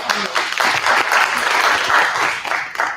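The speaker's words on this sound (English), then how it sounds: "our VIPs who have given a round of applause" Applause from the audience at a youth roadshow event in KwaZulu-Natal, a steady, dense round of clapping filling the whole stretch with no voices over it.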